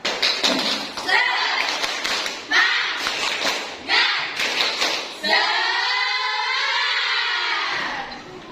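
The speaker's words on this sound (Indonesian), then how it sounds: "Mari kita tepuk semangat." A classroom of students performs a rhythmic tepuk semangat clapping chant, bursts of sharp group claps in patterned rhythm broken by short pauses, ending in a sustained shouted chorus of voices.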